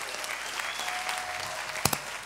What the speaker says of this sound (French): Yannick Bestaven, vous pouvez l'applaudir, s'il vous plaît